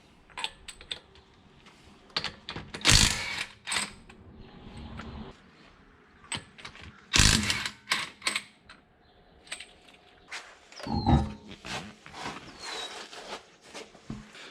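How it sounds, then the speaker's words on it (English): A ratchet working on a wheel on the passenger side of a 4th-generation Acura TL: sharp bursts of rapid metallic clicking, separated by quiet gaps with faint handling noises. "get this wheel off and start taking this thing apart"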